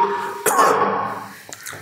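A single cough breaks out up close near the middle, followed by a few fainter throat sounds, in a room with a teacher who gets a cough from cold morning air on the way in.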